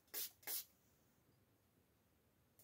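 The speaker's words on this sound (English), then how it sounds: "now let's spray it into the environment here" Two quick bursts of a spray bottle of mixed oils sprayed into a room, close and hissy, one right after the other, then near quiet with a faint start of another spray at the end.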